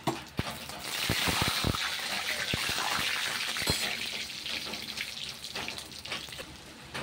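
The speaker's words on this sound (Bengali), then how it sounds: "এই দেখুন জিরে, তেজপাতা, শুকনো লঙ্কা সব ফোড়ন দিয়ে দিচ্ছি।" Cumin, bay leaf and dried chilli hit hot oil in a steady close sizzle, with a few sharp spits and clinks of a utensil early on, then fading gradually toward the end.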